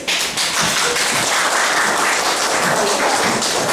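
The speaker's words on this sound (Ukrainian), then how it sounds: "Плескайте." A crowd of pupils and parents claps at an end-of-primary-school diploma ceremony for fourth graders, a loud, dense, continuous patter of many hands with no pauses.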